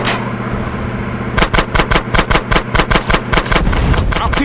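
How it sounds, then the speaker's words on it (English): Rapid bursts of gunfire aimed at a police driver in Grand Theft Auto: San Andreas, during a city-wide riot on Grove Street: after a second of engine rumble, about a dozen loud, sharp shots crack in quick, uneven succession, close and dominant. "I'm practically shooting the driver."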